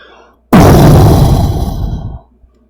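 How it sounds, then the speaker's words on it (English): A loud explosion sound effect played during a tabletop role-playing game session: a sudden booming blast that bursts in at full force, then rumbles and slowly decays over about a second and a half before cutting off. "Oh, that was an explosion."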